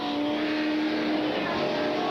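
Super stock race cars roar past on the back straightaway of an oval track, a steady loud engine drone with a rising whine as they pass close by, no voices.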